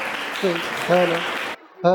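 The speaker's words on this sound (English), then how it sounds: "Everyone a huge round of applause for him please." Audience applause at a school Independence Day event, a steady clapping wash with voices talking over it, cutting out briefly near the end before speech resumes.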